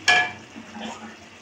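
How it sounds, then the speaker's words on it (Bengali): Sesame-poppy paste being fried and stirred with boiled potatoes and ridge gourd in a pan: a brief loud scrape-and-sizzle at the start, then a softer, steady frying hiss with light stirring. "আলুটা সেদ্ধ হয়ে গেছে, এবার পোস্তটা দিয়ে ভাজা ভাজা করব"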